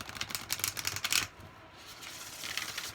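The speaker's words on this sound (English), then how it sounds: "So let's try horizontal shuffling." An oracle card deck being shuffled horizontally gives a quick, soft run of papery riffling clicks and flutters, close and faint, ending in a brief quieter rustle.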